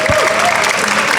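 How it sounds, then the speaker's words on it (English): An audience at a panel event on sustainable futures breaks into steady, dense applause, loud and continuous from start to end with no speech over it. "please give them a big applause"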